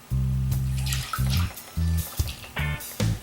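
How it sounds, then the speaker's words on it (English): Blended kava root mixture being strained through cheesecloth, heard as repeated bursts of loud, low gurgling and splashing liquid separated by short gaps, close up and with no talk. "after we've blended our mixture, we're going to strain it through a cheesecloth"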